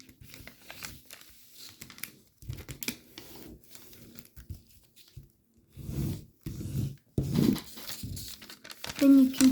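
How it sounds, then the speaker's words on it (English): Origami paper being folded into a Spadewing fighter jet model, with soft crinkles and creasing rustles coming in irregular bursts, louder near the end, under and between a person's talk. "Then you can fold the paper up, like that."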